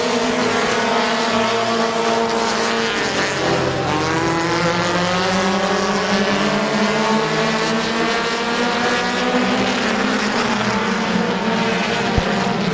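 Race cars roar around Midvale Speedway in a dense, loud drone of several engines, their pitches rising and falling as they chase each other through the laps.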